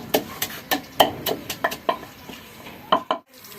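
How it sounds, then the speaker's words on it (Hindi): Chillies go into a hot pan of oil for a tadka in a Pakistani village kitchen, giving a run of sharp crackling spits and clinks in quick uneven bursts, close and fairly loud. "अब जी मिर्चें ऐड कर रहे हैं।"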